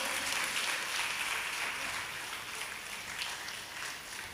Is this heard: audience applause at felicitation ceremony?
yes